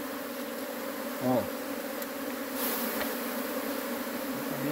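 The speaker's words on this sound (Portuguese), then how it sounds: "As abelhas tranquilas, parece, né?" Honeybees buzzing steadily during the transfer of a colony into a standard hive box, a continuous close drone with a brief louder burst, while people talk quietly nearby.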